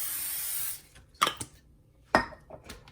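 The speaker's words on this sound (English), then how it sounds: "I'm just going to give this a quick spray." A quick hiss from a spray bottle misted onto a board while a breakfast charcuterie is prepared, followed by a few light clinks and knocks of dishes or utensils, close and fairly quiet.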